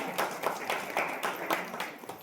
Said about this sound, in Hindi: ऐसे संस्कारित परिवार के लिए आप ताली बजाइए